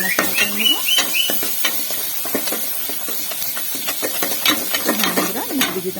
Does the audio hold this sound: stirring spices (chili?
yes